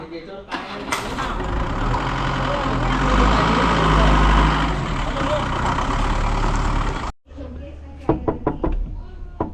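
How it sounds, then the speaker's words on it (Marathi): A heavy tanker truck engine rumbles loudly and steadily at idle for several seconds in a Konkan village, then abruptly cuts out, followed by people speaking. "इकडे आपण टँकर सुद्धा मागवलंय टँकर आलाय बघा आपलं"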